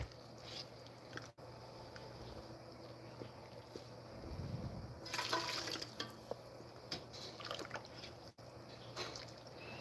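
Excess water is poured off a pot while cooking, a faint splashing gush rising for a couple of seconds mid-clip over a quiet kitchen hum.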